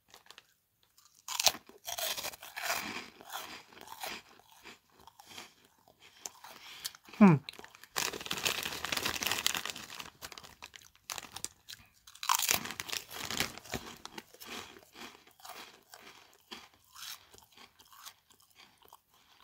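Pickled Onion Monster Munch crisps crunched and chewed up close in loud bursts separated by pauses, with crinkly bites and a longer stretch of steady munching.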